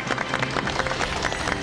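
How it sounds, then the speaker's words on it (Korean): Studio audience on a Korean television talk show clapping to welcome a guest, a brief, fairly soft burst of applause. "박수로 환영해 주십시오"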